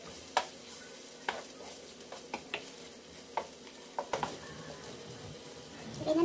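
Ginger sautés in a pan for Filipino-style blue crabs, a low sizzle under repeated scraping and stirring knocks that come in irregular bursts, close by and fairly quiet.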